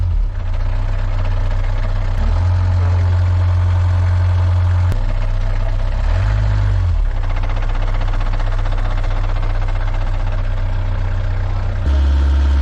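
A steady, low rumbling boat engine, a 7.4 MPI, idles continuously and loudly nearby, with a slight change in pitch now and then.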